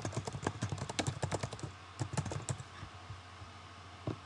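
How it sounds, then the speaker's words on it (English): Close, quiet typing on a computer keyboard, quick irregular clusters of key clicks with brief pauses, no talking. "we're going to type in a quick sentence here."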